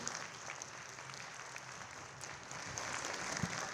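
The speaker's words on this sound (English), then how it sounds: "So a little round of applause for Sawyer there" An audience at a school music concert gives a student orchestra player a faint, steady round of applause, heard from a distance, with a soft thump near the end.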